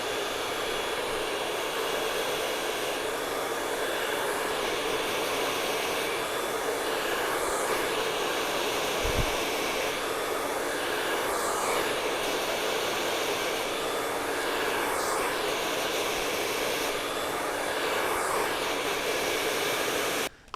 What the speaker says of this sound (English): I switched hands using the blow dryer in my right hand and my brush in my left hand